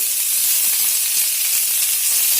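A pan of mixed vegetables fries with a constant close hiss and sizzle, bright and unbroken for the whole stretch, with no talking.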